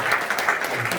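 A seated gathering at an annual general meeting gives a short burst of applause, a brief steady patter of clapping.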